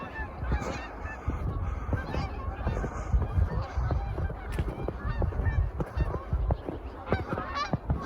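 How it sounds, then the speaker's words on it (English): Geese honk repeatedly as they come off a river at dusk, overlapping calls from a flock at moderate distance with a steady outdoor hush beneath. "Geese are all starting to come off of the river."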